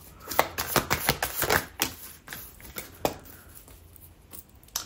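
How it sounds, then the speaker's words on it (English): A deck of tarot cards is shuffled close by, giving a quick run of crisp riffling snaps and flicks that slows and thins out into a few scattered taps. "I was shuffling that deck upside down."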